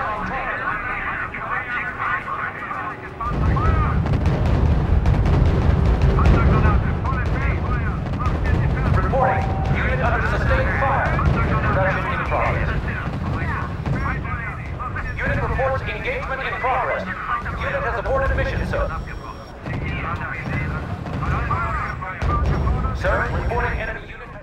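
Battlefield artillery barrages and gunfire from the WWII strategy game R.U.S.E., a continuous loud rumble of explosions and shots with game voice lines over it.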